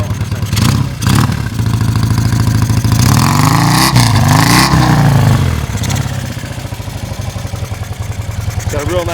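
A 1974 BMW R60-R90 motorcycle passing close by, its boxer-twin exhaust rising and falling in a loud revving drone and then settling into a steady throbbing idle-like beat.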